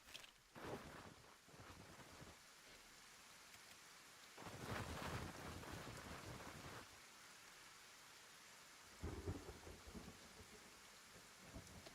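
Acid rain pours steadily in the Kenshi video game while rolling thunder swells twice, a long loud rumble midway and a shorter burst near the end, over a constant hiss of falling drops.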